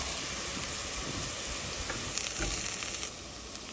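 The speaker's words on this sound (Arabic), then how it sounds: "هاجي احط البصل المبشوره، احمص كده مع الزبده." Grated onion fries in butter in a pan, a steady, close sizzle with crackling bursts throughout, no voices over it.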